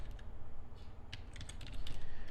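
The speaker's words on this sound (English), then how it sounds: "Now what you want to do is you can just start typing in here" Keys on a computer keyboard clatter in quick, uneven bursts of typing, close and fairly quiet, over a steady low background hum.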